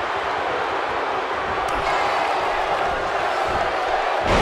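A wrestling arena crowd roars steadily through a title match, a dense unbroken wall of cheering that stays loud from start to finish.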